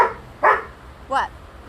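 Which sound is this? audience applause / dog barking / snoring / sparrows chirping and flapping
dog barking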